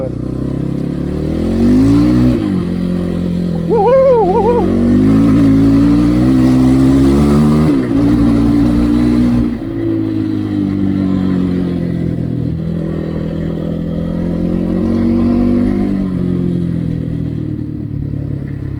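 A Kovi Max 300 Chinese enduro motorcycle engine drones close by, revving up and easing off as it rides across a field, with occasional clunks and a steady mechanical hum.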